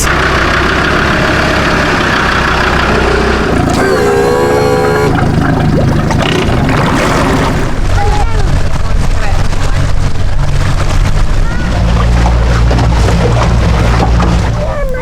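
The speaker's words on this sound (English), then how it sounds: "the boat has slowed to a crawl as we are crossing the channel between the third lake and the second" A tour boat engine hums low and steady at a crawl through a channel between lakes in iSimangaliso Park, South Africa, with a voice speaking over it at times and a brief whine partway through.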